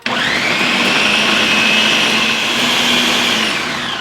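A Ninja blender chopping red pozole ingredients roars steadily at close range with a high whine, running continuously and loud with no pauses or talking.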